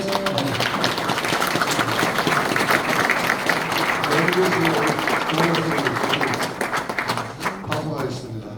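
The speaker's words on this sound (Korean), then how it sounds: "박수." Applause at a church dedication and founding service, the congregation clapping in a loud dense burst under a speaker's talk that tapers off near the end.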